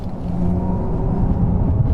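A Mercedes EQS 450+ electric car's synthetic drive sound, a steady, throbbing low drone humming continuously, smooth and unbroken, resembling a combustion motor idling.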